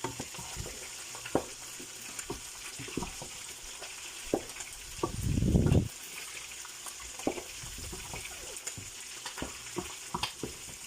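Fish with powdered ginger cooks in a pan while a utensil stirs it, making soft repeated scrapes and taps over a gentle sizzle, with one louder sputtering burst about halfway.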